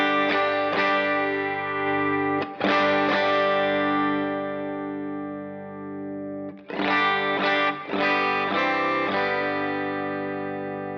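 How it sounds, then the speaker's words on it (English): Electric guitar through a clean amp with no pedals, strummed chords ringing out close and loud with sustained harmonics, a few sharp restrikes around the middle and end, played alone without talk. "Here's clean tone. There's no pedals on right now."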